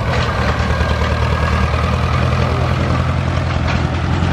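An old Tây Ninh 'Khủng Long' tractor engine idles nearby, a steady, loud, low chugging drone that holds unchanged throughout with no voices.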